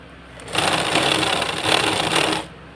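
A sewing machine stitches an embroidered blouse, a steady, fast mechanical whir that starts abruptly, runs loud and even for about two seconds, then stops.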